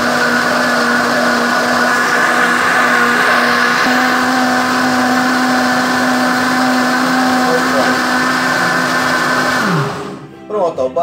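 A loud blender whirs steadily for about ten seconds blending juice, then winds down and stops, followed by a few faint clicks.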